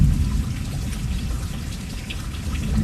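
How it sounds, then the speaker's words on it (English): Rain falling on a porch, a steady dense patter with a deep low rumble beneath, continuous and fairly loud with no voices over it. "The rain is so beautiful."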